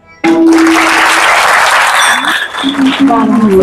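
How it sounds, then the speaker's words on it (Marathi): An audience claps loudly at a devotional kirtan, a sudden burst of sustained applause that fills the space, joined by held musical tones and voices near the end. "त्याच्यामुळे महाराज जोरदार टाळ्या वाजवासाठी एकदा"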